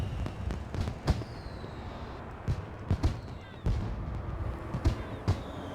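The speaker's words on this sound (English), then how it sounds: "I think they have fireworks displaying some fireworks and the other things" Fireworks display in the game SimCity 4, with repeated sharp bursts and thumping booms at irregular intervals over a steady ambient background, fairly loud and distinct.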